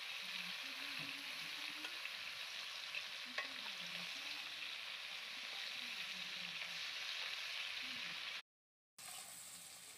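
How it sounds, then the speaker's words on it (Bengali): Prawns fry in oil in a pan and are turned over, giving a steady, soft sizzle with faint scraping from stirring and one brief silent gap near the end. "চিংড়ি মাছগুলোকে এবার আমি উল্টে পাল্টে ভেজে নেব"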